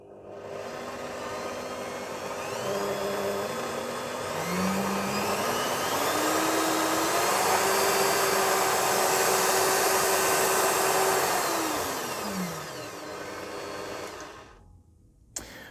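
A Bosch PBD40 bench drill press runs at its minimum speed, giving a steady, close motor whine and whir that holds at one level, its pitch rising once partway through, before cutting off near the end.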